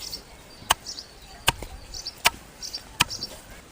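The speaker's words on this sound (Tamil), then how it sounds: "கம்பை நல்லா இடித்து எடுத்துக்கணும்." Soaked pearl millet (kambu) pounded with a little water, four sharp evenly spaced thuds under a second apart, close and distinct, with faint scraping between strikes.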